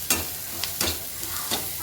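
A spoon stirs ground peas and masala in a hot pan. Three or four distinct scraping strokes rise over a low, steady sizzle of frying.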